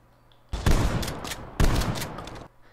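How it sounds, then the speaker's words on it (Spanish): Two heavy shotgun blasts from Call of Duty Cold War gameplay, each a loud close boom with a long rumbling tail, about a second apart. "Prueba la escopeta."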